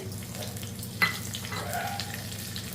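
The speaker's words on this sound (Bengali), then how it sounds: "সম্বার তৈরি করবো তাতে দিয়ে দেব শুকনো লঙ্কা কালো সর্ষে" Dried red chilies and black mustard seeds sizzling in hot oil for sambar, a steady crackling fry with a small sharp pop partway through, close and even.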